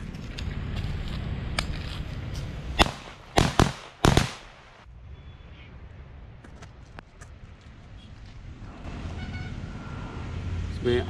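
Diwali bird bomb firecrackers go off beside a Coca-Cola can outdoors. A quick cluster of loud, close bangs is followed by scattered smaller pops and crackles over low background noise.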